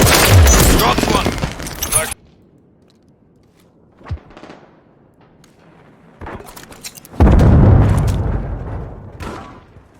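Fireworks-style kill effect in a first-person shooter game: a dense burst of loud crackling blasts, a lull with a single faint pop, then a second loud crackling barrage near the end.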